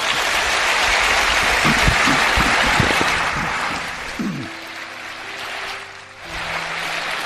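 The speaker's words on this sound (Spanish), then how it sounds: "Os pido un aplauso para ellos" Applause from a studio audience fills the room, loud and dense at first, then thinning out and fading as the clapping winds down over several seconds.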